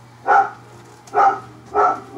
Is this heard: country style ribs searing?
no